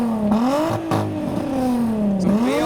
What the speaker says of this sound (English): There sounds to be some kind of V6 giving some revs, or maybe VR6.